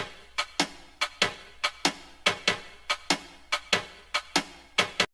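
A jazz drum kit built from Minecraft piston sounds, processed with compression, tape delay and reverb, plays a steady groove of sharp percussive hits about every half second, each ending in a short decaying tail.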